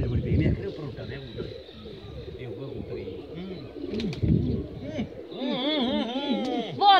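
Pigeons coo repeatedly close by in soft, rolling calls, overlapping with chatter and voices talking in the background.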